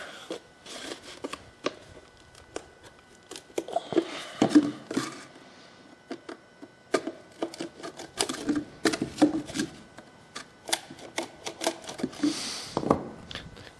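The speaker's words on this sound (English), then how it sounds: "then take your knife and work a couple holes here" A knife works a couple of holes into half of a cut-open old plastic vegetable oil bottle, giving close, irregular clicks, scrapes and crackles of plastic that come in short bursts, with no voices.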